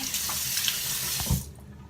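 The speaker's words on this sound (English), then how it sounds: "then I rinse that off with the same warm water" Warm tap water running steadily into a sink with splashing as hands rinse a face, then the flow cuts off abruptly.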